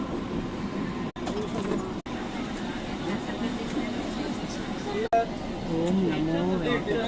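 A double-decker passenger train on the return run to Anakapalli produces a steady, moderate rolling rumble with a few brief dropouts. Voices can be heard talking over the noise.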